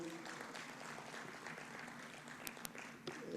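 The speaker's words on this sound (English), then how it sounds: "Another round of applause for Dr. Musisi." Steady, soft applause from the audience at a Ugandan economic growth forum after a speaker finishes, a continuous patter heard at a distance.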